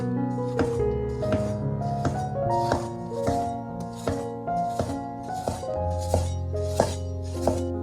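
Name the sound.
knife slicing potato into thin slices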